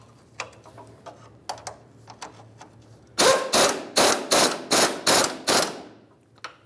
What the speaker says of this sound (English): We'll hold the bolt side, tighten the nut.